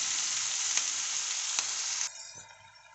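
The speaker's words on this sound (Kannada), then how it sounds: "ಸ್ವಲ್ಪ ಫ್ರೈ ಆಗಕ್ಕೆ ಬಿಡಬೇಕು" Ingredients for mushroom masala fry in a pan with a steady, even sizzle, a few soft stirring knocks, and the hiss drops off sharply near the end.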